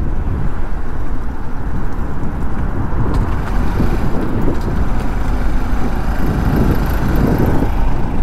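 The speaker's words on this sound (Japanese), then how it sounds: "赤いボルボ、暴走。" Road noise from inside a moving vehicle, with a steady heavy rumble and scattered knocks and clatters throughout, as a red Volvo car is driven recklessly on the road ahead.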